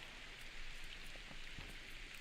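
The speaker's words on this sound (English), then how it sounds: "Oh, it's raining." Steady rain in Fire Emblem: Path of Radiance, a continuous hiss of falling drops with faint scattered patters, even and unbroken throughout.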